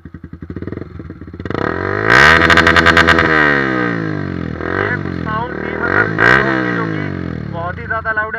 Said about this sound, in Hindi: बाकी अब इसकी एग्जॉस्ट की साउंड सुनाते हैं.